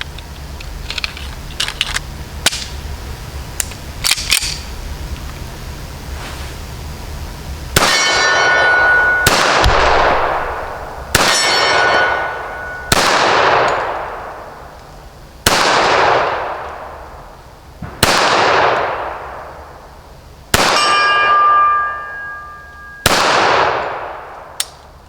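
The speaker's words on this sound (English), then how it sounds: "So we're gonna start out with the Kimber Custom 2. See how many targets we can miss." A Kimber Custom 2 pistol fires on steel targets, starting with a few light clicks, then eight loud, evenly spaced shots, each followed by a ringing clang and long decaying echo.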